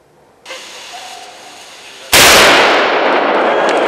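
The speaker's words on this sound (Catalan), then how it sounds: "El tro del canó ens indicava que la Ganxet Pinxo donava el tret de sortida" A cannon fired to start a race: a soft hiss builds, then a sudden loud blast bursts out and slowly fades into rumbling decay.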